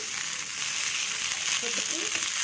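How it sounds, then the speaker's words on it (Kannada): Spiced masala with coriander leaves frying in a pan for egg masala gravy, a steady, close hiss of sizzling oil with a few faint scraping touches near the end. "ಇದನ್ನು ಚೆನ್ನಾಗಿ ಫ್ರೈ ಮಾಡ್ಕೋಬೇಕು."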